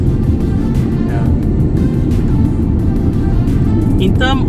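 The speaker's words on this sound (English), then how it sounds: "Now accelerating. There you go. The blow valve, so addictive." A 2002 Toyota Caldina GT4 in Naruse spec accelerates, its turbocharged engine droning steadily from inside the cabin, with a brief hiss of the blow-off valve near the end.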